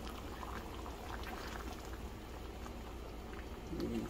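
Picadillo stew with potatoes and green chile simmering in a pot, giving a steady, close bubbling and popping boil that carries on without a break, with no talking.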